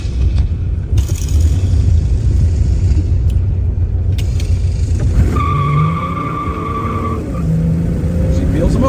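Pontiac GTO muscle car rumbling and pulling away with deep engine roar, tire noise rising midway as it accelerates off, voices talking over the engine.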